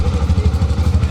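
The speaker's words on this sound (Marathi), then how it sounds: "आपली बाईक आलेली आहे." A motorcycle engine idles close by and loud, with an even, rapid thumping rhythm, readied for a mountain road trip to Leh Ladakh.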